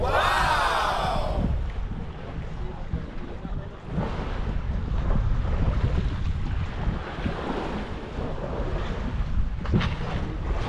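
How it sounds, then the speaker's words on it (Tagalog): Strong wind at sea buffeting the microphone over the rush of sea water on a fishing trip, a steady roaring wash throughout with a brief high tone at the start. "Ang lakas ng hangin, ah."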